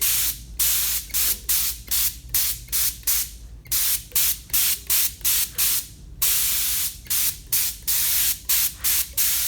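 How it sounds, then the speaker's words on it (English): Rapid repeated bursts of a sprayer applying wood stain, hissing in short even pulses, with a few longer sprays, close and loud. "when you spray stain, your color is going to be more even"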